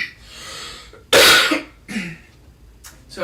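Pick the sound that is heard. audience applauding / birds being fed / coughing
coughing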